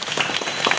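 Schoolchildren at a Zilla Parishad model school clap loudly during a spelling bee, a brief burst of dense, close applause from a classroom group with no talk over it.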